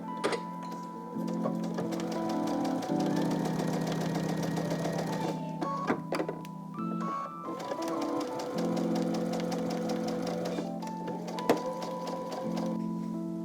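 A sewing machine stitching quilt block fabric, several runs of steady whirring needle rhythm broken by short pauses and small clicks, close and moderately loud with no voices.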